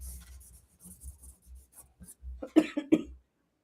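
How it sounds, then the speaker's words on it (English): A couple of sharp, close coughs near the end, after a stretch of soft scratching or rustling sounds. "I'm getting a cough."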